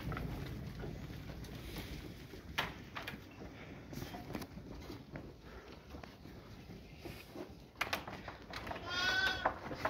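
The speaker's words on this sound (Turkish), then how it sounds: "Kuzular bakın nasıl hızlıca koşarak doluyorlar." Lambs bleat repeatedly amid a rush of small hooves and shuffling, the calls growing louder and more crowded toward the end.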